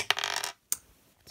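An eight-sided die tumbles across a hard surface in a quick burst of rattling clicks, then lands with a single sharp tap after a short pause, close and fairly loud with no voices.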